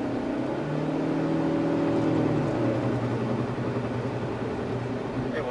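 A 2019 Proton Persona engine accelerating from inside the cabin, a steady mid-pitched drone with rising harmonic tones over about five seconds, loud and continuous with road noise beneath.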